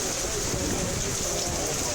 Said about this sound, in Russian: Попали под дождь. Фронталка в этих условиях, конечно, не отрабатывает. Дождь стеной.